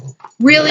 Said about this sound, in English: I apologize for my dogs over here